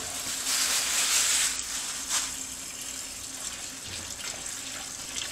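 A kitchen tap runs steadily into a filling sink, a close, continuous gush of water with slight swells and small clatters as lettuce and vegetables are added.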